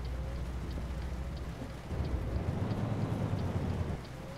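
Steady rain and a low rumble of thunder in the trucking game Euro Truck Simulator 2, a soft continuous patter with the rumble swelling midway.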